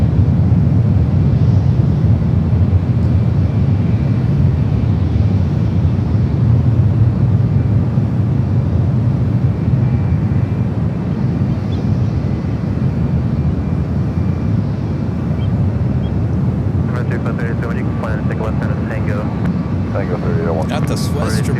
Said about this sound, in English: I believe this is the second United 757 to Boston.